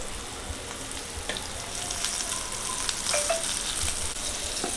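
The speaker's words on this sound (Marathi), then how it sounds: "इथेच मी आता कोलंबी फ्राय करते" Prawns fry in a pan with a continuous dense sizzle and a few brief clinks, heard up close with no talking.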